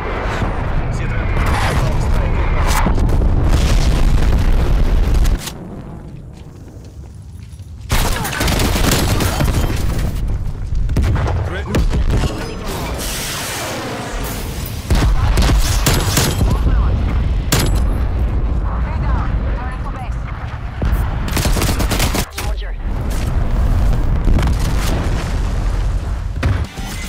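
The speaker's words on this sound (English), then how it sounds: "Incoming artillery." Artillery strike in Call of Duty: Black Ops Cold War, with loud booming explosions, rattling gunfire bursts and debris rumble, dense and close, with game voices talking over the battle.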